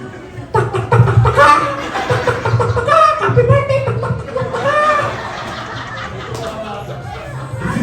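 A person's voice clucks and squawks in rapid bursts, imitating a chicken, with other people chattering and chuckling nearby.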